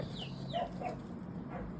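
Soft hen clucks and short chirpy calls from nearby chickens and turkeys, a few separate notes over a steady low background hum.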